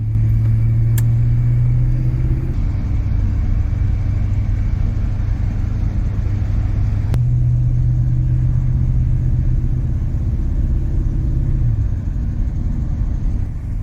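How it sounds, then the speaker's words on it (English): A wood-gas-powered V8 Chevrolet Fleetside pickup cruising in traffic gives a steady low engine rumble from inside the cab, with a slight shift in pitch midway and no speech. "The car is easy to drive and it moves nicely with other traffic."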